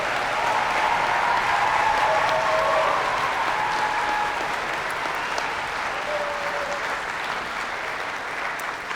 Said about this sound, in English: Let's give them all a thunderous round of applause